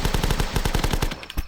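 Rapid automatic gunfire blasting at zombies in The Last Stand, a Newgrounds zombie game, a loud steady burst of shots that runs without a break and then thins out near the end.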